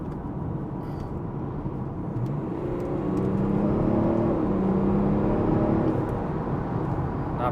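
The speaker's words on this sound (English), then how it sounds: "the exhaust note starts to come alive when you put your foot down" A BMW 335d car with an N57 diesel engine, built to about 500 bhp, revs hard under acceleration, its deep exhaust rumble swelling louder midway and holding steady, with no talking.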